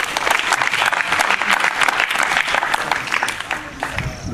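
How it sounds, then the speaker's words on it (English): An audience claps steadily for a spelling contestant who has just been disqualified, a dense and fairly loud round of applause that runs the whole time with a little murmuring under it. "Clap for him."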